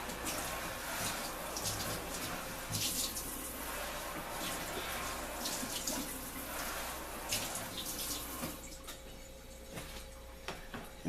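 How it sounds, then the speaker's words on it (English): Hot water runs steadily from a tap for several seconds, a continuous close splashing hiss that shifts slightly as the stream is moved, with occasional light knocks and no talking. "I'm just going to use tap water, hot tap water"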